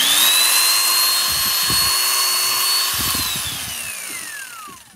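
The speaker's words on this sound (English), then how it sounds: "this is a Black and Decker jigsaw, so we need to test this one out as well" A Black and Decker jigsaw runs on test with a steady high motor whine and choppy bursts of cutting chatter. The whine winds down toward the end.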